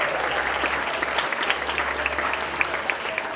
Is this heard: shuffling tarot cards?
no